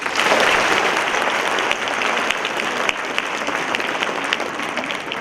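Audience applause for speaker Stephen Moss at an education lecture: sustained, even clapping from a sizable crowd, loud and continuous for the whole stretch.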